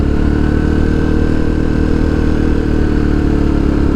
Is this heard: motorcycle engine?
yes